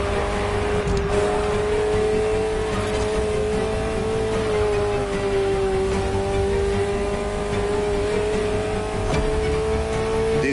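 Ferrari sports car engine in The Crew Motorfest driving game, a continuous droning engine note holding a steady pitch with slight rises, loud and close throughout with no pauses.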